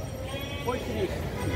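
A goat bleats at a crowded Qurbani livestock market in Bangladesh. A few brief, faint bleats sound beneath steady nearby talk and general market noise.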